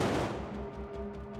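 Film-set pyrotechnic blasts from a mortar and a propane popper boom loudly at the outset, throwing debris and fire, then the roar decays into a rumbling tail with faint crackling.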